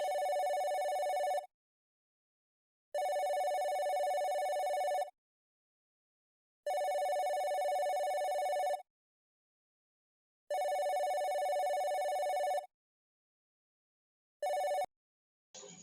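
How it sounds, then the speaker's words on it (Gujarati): A telephone rings indoors in repeated long electronic bursts separated by silent gaps, loud and steady, about six rings before it is cut off. "ફોન વાગે છે, જોતો કોનો ફોન છે?"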